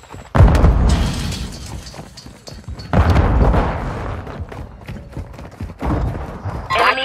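In Call of Duty Mobile multiplayer, Semtex grenade blasts boom loudly and close, with three separate deep bursts spaced a few seconds apart, each decaying into rumble and scattered in-game clatter.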